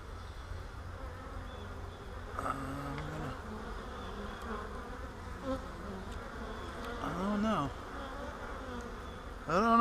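Bees flying around a swarm trap, a continuous drone of many insects with individual buzzing bees passing close by, rising and falling in pitch.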